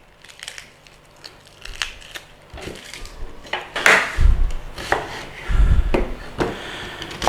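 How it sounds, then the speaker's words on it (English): A knife slices through an onion on a cutting board. Crisp, irregular crunches come up close, with heavier thuds of the blade on wood and a few knocks in between. "Let's take an onion. Want some sliced onions."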